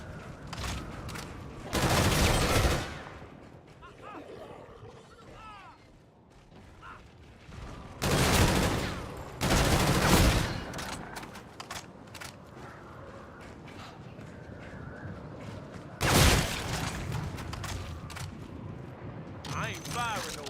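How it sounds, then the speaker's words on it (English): Gunfire in Call of Duty: Infinite Warfare zombies mode, with several loud bursts of shots in separate clusters, mechanical clicks and creaks between them, and someone talking quietly at times. "I ain't firing no blanks"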